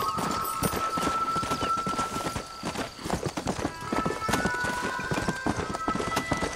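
Rapid hoofbeats of a galloping horse in the video game Red Dead Redemption pound steadily throughout, with a thin tonal background hum and no talking.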